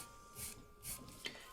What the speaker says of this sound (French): moi, j'utilise une lime